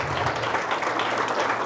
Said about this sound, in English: if I can please give a round of applause for the sponsors